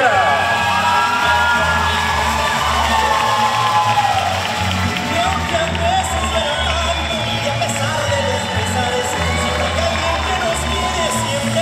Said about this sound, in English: A big round of applause for all of our dancers, directors, staff members, and parents